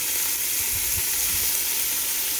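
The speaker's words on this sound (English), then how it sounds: "I'm going to be throwing in my potatoes." Big chunks of potato hit a hot pot of boneless beef short ribs and sizzle loudly, a dense steady frying hiss close up with a few soft thuds underneath.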